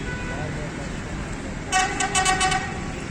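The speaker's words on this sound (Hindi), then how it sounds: "ट्रैफिक जैम है जी।" Traffic jam at the Bhara Kahu flyover, with steady road noise and engine rumble under a string of several short car horn toots close by, someone speaking over it.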